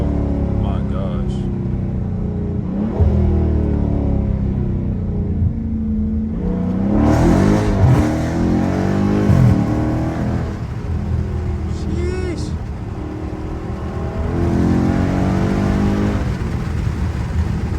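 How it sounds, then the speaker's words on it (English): A Dodge Charger Scat Pack engine rumbles and swells as the car accelerates hard from a 40 mph roll at night in the city, loud and continuous from inside the cabin, with someone talking over it. "I'm gonna get a little 40 roll for y'all."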